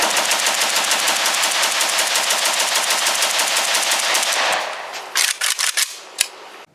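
Arsenal SLR-107R AK rifle with a full Bulgarian magazine firing a long, rapid burst of loud, close shots, then a handful of separate single shots at the end.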